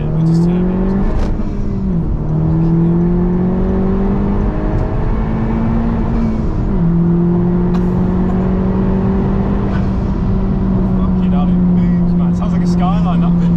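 A turbocharged K20 engine drives a Honda Civic FK2, giving a steady, loud cabin drone that holds and shifts pitch through a few gear changes, while people talk over it.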